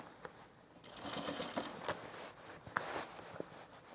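A sewing machine stitches the tight curved center front rise of men's cargo shorts, running in short faint bursts with small clicks and pauses as the fabric is adjusted.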